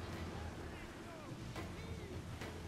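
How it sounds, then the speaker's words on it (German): Wind gusts and waves at sea in Assassin's Creed IV Black Flag during a storm: a constant roar of wind and surf with creaking ship sounds over it, and a few brief sharp bursts. "Eine Böe kommt auf"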